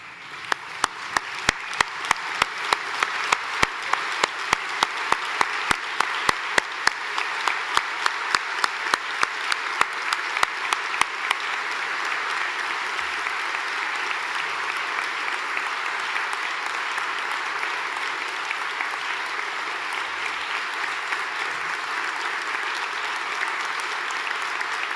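Sustained applause from a university graduation ceremony audience, with a few sharp individual claps standing out at the start before settling into a steady, dense wash of clapping from a large crowd.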